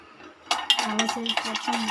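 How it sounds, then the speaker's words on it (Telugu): Peanuts being stirred with a spoon in a hot pan for peanut laddu, starting after a half-second of quiet, then steady scraping and rhythmic metal clinks against the pan repeating close and clear with no talk. "పల్లీలు వేసేసుకొని అటు ఇటు బాగా కలిపేసుకోవాలి"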